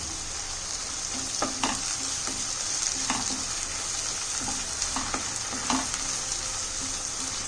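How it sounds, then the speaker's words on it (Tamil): Tomato paste stirred into frying onions in a pan for an onion egg fry, a steady close sizzle broken by scraping strokes of the spoon every second or so, with no voices. "தக்காளி பேஸ்ட் போட்டு 1 நிமிஷம் கிளறி விடுங்க"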